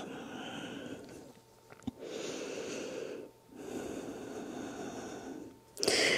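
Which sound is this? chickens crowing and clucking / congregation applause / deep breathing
deep breathing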